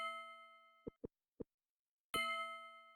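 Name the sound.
bell sound when character writes in video game Petscop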